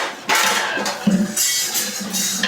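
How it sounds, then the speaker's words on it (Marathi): Spices and tomato fry in oil in a pan for a paneer kurma, with a metal spoon clinking and scraping against the pan over a soft sizzle, close by. "मसाले तेलामध्ये व्यवस्थित परतून घेतोय"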